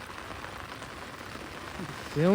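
Steady rain falls over a coastal creek, a soft, even hiss of drops throughout, with a voice starting up right at the end.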